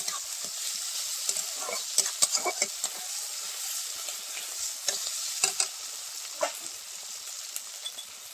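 Ground spice paste hits a hot pan for a raw banana and fish kofta curry, hissing steadily while a spatula scrapes and taps in irregular bursts, close and clear with no talk.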